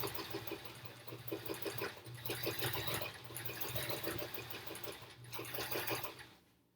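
A sewing machine zigzag stitches black thread onto a quilt block in steady, rapid bursts, a continuous close mechanical whir with rhythmic needle pulses that trails off at the end.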